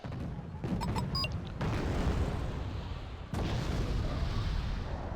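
A TOS-1 Buratino rocket artillery barrage in Wargame: Red Dragon, heard as a dense rumbling roar of launches and impacts that swells into sustained heavy booms, with brief high electronic beeps near the start.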